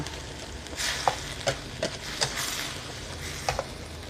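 Mixed vegetables with straw mushrooms and oyster sauce stir-fried over high heat, a continuous sizzle punctuated by several scraping strokes of a spatula against the pan.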